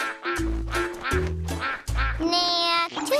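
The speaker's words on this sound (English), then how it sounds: "Could I ride a flappy green duck?" A cartoon duck quacks in a bright, nasal series of honking calls, loud and close with short gaps, ending in a higher, squeakier run of quacks.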